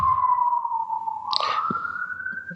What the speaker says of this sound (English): Let me wait for the siren to pass.